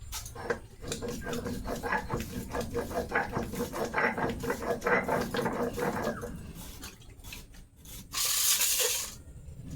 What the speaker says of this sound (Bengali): আর এখন একটু রসুন এই যে রসুন বাটা দেবো